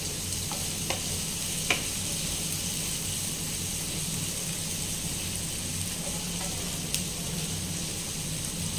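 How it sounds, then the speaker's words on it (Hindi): Onions fry in a pan of oil with garlic, giving a constant close hiss and sizzle with a few sharp pops and clinks scattered through. "एबे मु प्याज पकईदेली"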